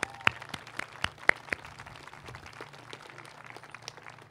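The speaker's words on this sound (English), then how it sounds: "that is worthy of applause." Sparse, scattered clapping from a small audience at an annual holiday concert, a few sharp individual claps early on that thin out into faint, occasional claps.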